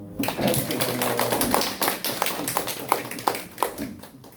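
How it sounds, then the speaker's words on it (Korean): An audience at a poetry and humanities talk claps, giving a few seconds of uneven, scattered hand claps at moderate loudness, with no speech. "야, 박수"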